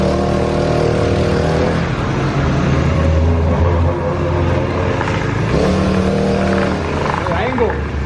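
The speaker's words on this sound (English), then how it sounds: "I'm literally riding a cooler right now." A motorized ride-on cooler's small engine runs and revs close by under loud, excited talk.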